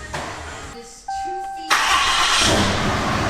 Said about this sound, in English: then you start the truck